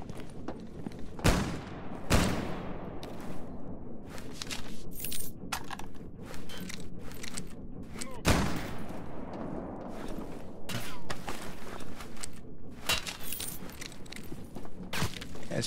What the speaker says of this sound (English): He's using the shotgun on you